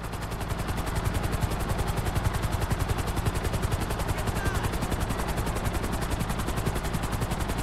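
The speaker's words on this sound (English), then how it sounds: "I'm bringing the chopper back around." Helicopter in the video game GTA V, its rotor chopping in a loud, fast, steady rhythm close by for the whole stretch, with a sharp rattling edge and no talking.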